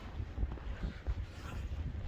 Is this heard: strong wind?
yes